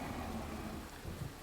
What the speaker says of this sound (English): Okay, we've got rain